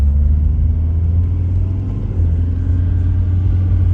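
A 2004 Volkswagen Jetta diesel engine runs at fairly high RPM, giving a loud, steady, close low rumble with no break for four seconds.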